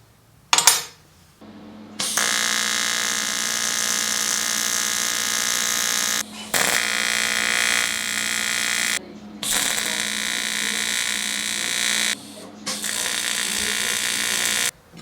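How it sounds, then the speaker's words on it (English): TIG welding on a thin fuel tube fitting, an AN6 to M14 by 1.5 U fitting for a fuel filter, gives a steady buzzing hum in several long bursts separated by short silent gaps. "I think I can start welding."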